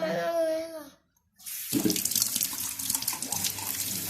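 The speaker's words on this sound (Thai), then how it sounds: "ล้างมือ ล้างมือก่อน ล้างมือก่อนนะ" Water runs from a tap as hands are washed, starting after a brief pause and flowing steadily near the microphone, preceded by a short bit of a voice.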